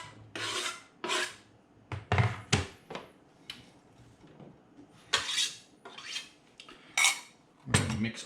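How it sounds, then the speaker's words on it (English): Onions, peppers and ground beef stirred together in a skillet over medium heat, with repeated rough scraping strokes of a utensil against the pan in an irregular rhythm, close and moderately loud, with no speech. "mix all of that together."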